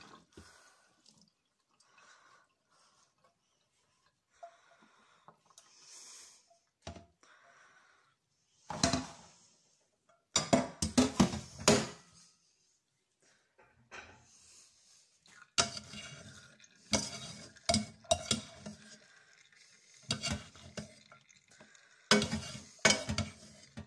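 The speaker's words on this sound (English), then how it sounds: "Now I'm going to drain my pasta in my colander." Cooked pasta is drained into a colander in a kitchen. Quiet stretches are broken by scattered splashes, drips and clattering of the pot and colander, some in bursts of rapid knocks.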